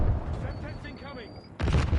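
Semtex grenade blast in Call of Duty Black Ops 6, a sharp heavy explosion bursting in near the end after quieter game-announcer voice chatter and faint tones, loud and close.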